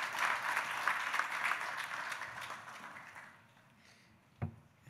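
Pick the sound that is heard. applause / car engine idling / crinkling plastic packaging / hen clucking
applause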